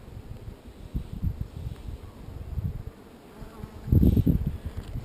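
A honeybee buzzes near a fridge hive fitted with a mouse guard, its drone close and steady, with a louder, nearer pass toward the end and no talk.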